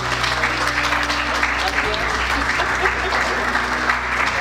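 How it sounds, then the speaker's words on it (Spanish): Steady audience applause at a talk on esotericism and initiatic societies, continuous and fairly loud throughout the short stretch, with a low room hum and some voices mixed in underneath. "Por favor, Sandra, un aplauso."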